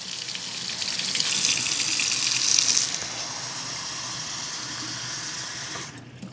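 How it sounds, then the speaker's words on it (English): Hot tap water runs steadily into a cup, a continuous close rushing stream that rises in pitch as the cup fills, then cuts off. "So I'm going to get hot water in this cup."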